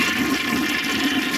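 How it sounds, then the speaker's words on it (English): A 1965 Nationaline toilet with a clogged rim jet flushes in one steady, loud rush of water that runs through the whole moment without a break. "So I'm just gonna do a flush right now."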